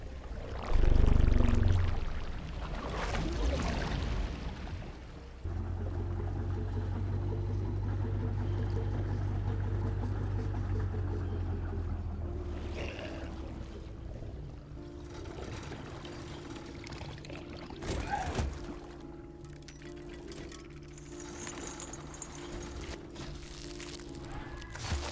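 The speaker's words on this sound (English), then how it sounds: "properly routing running water to a turbine in order to open the gate to the next area" Running water flows through an aqueduct in a Lovecraftian fishing RPG video game. It gives a steady rushing pour with a louder splash near the start and a few clinks and game effects later, with no talking.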